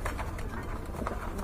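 Pigeons coo in a busy, noisy setting, with soft repeated throaty calls blending into dense background clatter and possible faint voices.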